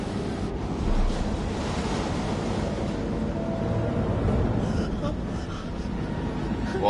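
Water floods into a boat in the horror game Man of Medan, a continuous rushing, surf-like wash with windy roar that swells slightly and never lets up.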